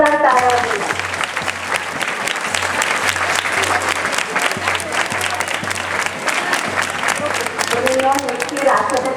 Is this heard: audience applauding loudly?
yes